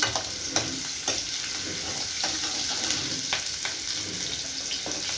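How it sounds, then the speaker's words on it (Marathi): Beetroot greens fry in oil with a steady, bright sizzle, punctuated by occasional scraping and stirring clicks from a utensil in the pan. "बीटाची भाजी आपण थोडासा मला आधी भाजून घेऊया तेलामध्ये"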